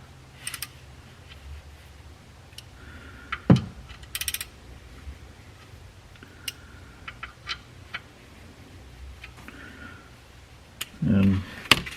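A torque wrench tightens the oil drain plug on a 2010-2017 Chevrolet Equinox or GMC Terrain to 18 foot-pounds, giving faint scattered ratchet clicks and ticks, a sharp snap near the middle and a brief louder click burst near the end, over quiet background.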